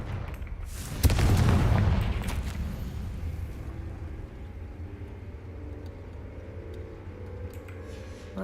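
A Confringo fire spell from Hogwarts Legacy bursts in one loud, close explosion about a second in, followed by a long rumbling decay that settles into a low ambient hum with no talk.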